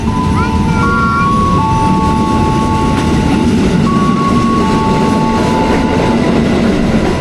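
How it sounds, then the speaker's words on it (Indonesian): A train arrives at a station, rumbling close by with a steady low roar and rail noise, while a few high tones ring out over it. "Ada kereta."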